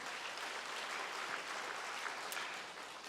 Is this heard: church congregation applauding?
yes